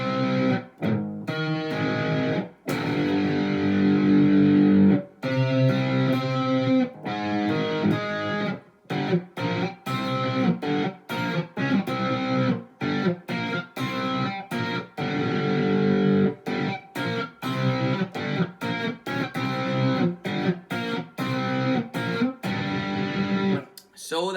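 An overdriven electric guitar chugs through a song's chorus in power chords starting on C, with rhythmic choppy strums and short pauses, loud and up close with no voice over it.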